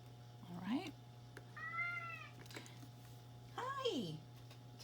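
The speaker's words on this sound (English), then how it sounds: "The cats are talking, both of them today" Two house cats meow at each other indoors, three distinct close meows, one a higher chirping call, spaced over a steady low hum, with a person talking softly between them.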